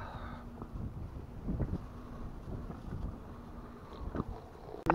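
Wind blows across a lake while someone fishes for pike from a boat: a faint, low, gusty buffeting with soft rumbling swells, then a sharp knock at the very end.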